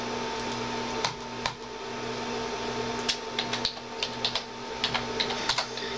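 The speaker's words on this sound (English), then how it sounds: "the reason you can hear the clicking a lot is because, I think my mouse is broken" A faulty computer mouse gives sharp, scattered clicks, some in quick bursts, over a steady hum during a Skyrim gaming session, with no talking.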